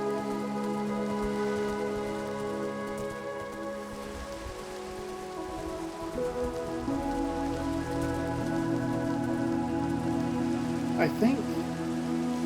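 Rain falls in Minecraft during a hardcore-world stream at sunset, a steady, even patter under soft background music, with a brief spoken remark.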